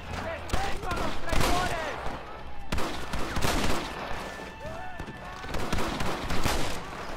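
Rapid gunfire in the Western video game Red Dead Redemption, a burst of overlapping shots with a few sharper cracks, close and loud over a steady game backdrop.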